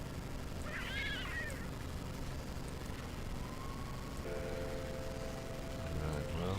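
A cat-like alien creature in No Man's Sky gives a short meow early on, faint against a constant low rumbling background, with a few thin tonal sounds following later.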